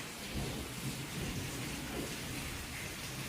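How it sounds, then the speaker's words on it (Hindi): Heavy rain pours steadily with deep rolling thunder rumbling beneath it, a loud continuous storm with no voices. "भयंकर वाली बारिश।"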